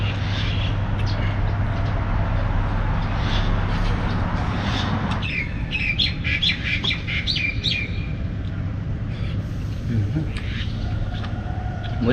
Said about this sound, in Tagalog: Yan yung mga ibon, no? Nakakanta sila.